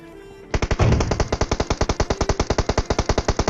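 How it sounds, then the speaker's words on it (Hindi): Enemy gunfire in a battle royale video game: a sustained, rapid burst of automatic shots, roughly twenty evenly spaced cracks in a few seconds, loud and close, with no talk. "लेकिन तभी उनका कुछ फायर आया था जो कि मेरे को सुनाई देता है।"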